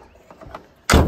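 Driver's door of a 1981 Volkswagen Rabbit Caddy diesel pickup shutting once with a solid, loud thunk near the end, after a few faint handling sounds.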